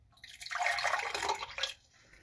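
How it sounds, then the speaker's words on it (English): Hot water pours for about a second and a half, a soft close trickle and splash that then tapers off, with no talking. "I still got some hot water here."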